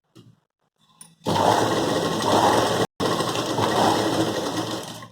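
A sewing machine runs steadily, stitching a folded fabric seam on a carry bag made from a blouse piece, with a short pause partway through and light handling noise beforehand.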